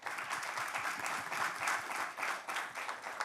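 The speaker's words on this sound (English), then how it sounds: "Let's have a round of applause." Applause in a city council work session room, a modest group clapping steadily at moderate, even loudness, a continuous soft patter of hands with no voices over it.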